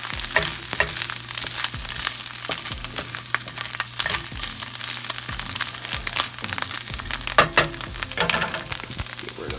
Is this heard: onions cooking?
yes